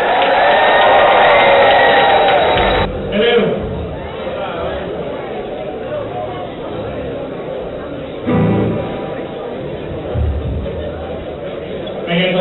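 A crowd at a Catholic Underground concert cheers and applauds as a band takes the stage, a broad wash of whoops and clapping that rises loud at first, then settles into a steady murmur under a voice.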